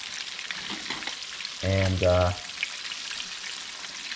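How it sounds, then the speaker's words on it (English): Soft, steady sizzle of flounder frying slowly in oil in a pan, with a brief murmur of a voice partway through. "When you're pan frying your fish"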